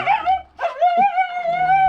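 A dog lets out a long, high, wavering whimper that slides into a howl-like whine, with a short yip in the middle, loud and close.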